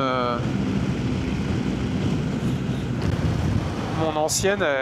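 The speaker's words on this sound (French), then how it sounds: "là, il y a du vent" Steady, heavy wind rush and roar buffeting the microphone throughout while riding a BMW R 1250 GS Adventure motorcycle at 100 km/h, with a voice speaking briefly near the end.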